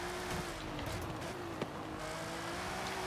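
A 700-horsepower all-wheel-drive car in Forza Horizon 5 RallyCross, its engine holding a steady, fairly quiet drone with faint tire noise and one brief knock partway through.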